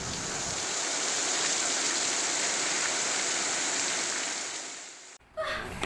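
Rain pours down in a steady, dense hiss for about five seconds, then cuts off abruptly and a few faint indistinct noises follow.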